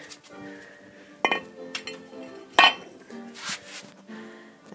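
A worn rear wheel bearing from a 1997 Hyundai SFX coupe, removed during repair, gives off several sharp metallic clinks and rattles in irregular bursts, close and distinct against a quiet background.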